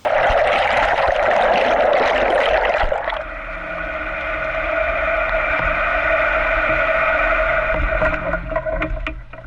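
An off-road vehicle splashes through water, a loud rushing wash of spray for the first three seconds, then a steadier engine drone with churning water continuing to the end.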